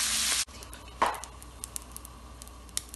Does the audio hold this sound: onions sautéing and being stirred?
yes